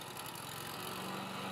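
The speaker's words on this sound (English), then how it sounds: "That's a lawnmower." A lawnmower engine runs steadily, a faint continuous buzzing drone with no change in pitch and no voices.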